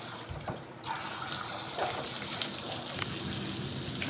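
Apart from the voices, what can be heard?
water poured over a terrier dog with cupped hands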